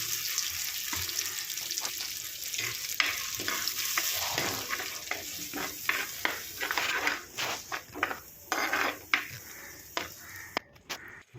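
Ground masala paste frying in hot coconut oil with popped mustard seeds in a pan, a steady loud sizzle with scraping stirs that turn into sputtering, bubbling pops toward the end, no voices.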